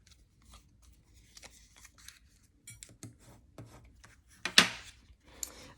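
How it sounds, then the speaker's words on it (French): Bone folder rubbing and scoring fold lines on a pop-up staircase paper card, a series of soft close scrapes and rasps with one sharper, louder stroke near the end. "Je vais prendre mon plioir et je vais venir marquer tous mes plis."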